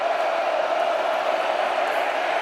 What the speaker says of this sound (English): So this crowd goes 0 to 100 before every snap.